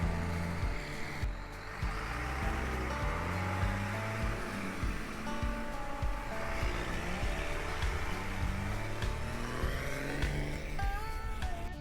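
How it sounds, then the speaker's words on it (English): Josh's truck driving along, a steady engine drone with rumbling low tones and shifting pitch, heard continuously from close by with no talking. "So we got Josh's truck driving and it looks great doing it"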